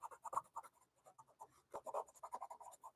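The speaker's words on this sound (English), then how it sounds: "This will be the blender pencil." A colored pencil rubs across paper with a light peach blender layered in, giving soft, close, rhythmic scratching strokes in short bursts with brief pauses, fairly quiet and with no talking over it.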